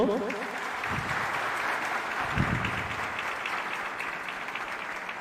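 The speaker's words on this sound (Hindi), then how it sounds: "अपनी तालियां प्रेषित करें मंच को" Applause from an audience at a Chhattisgarh government event with the Chief Minister claps on steadily throughout, while a voice speaks over it near the start.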